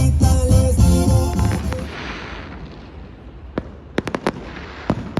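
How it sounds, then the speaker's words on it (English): Fireworks closing a late-night boat blessing celebration in Bucerias, Mexico: a dense crackling barrage with music fading out, followed by scattered sharp bangs and pops, some far and some close. "The celebration ends with amazing fireworks."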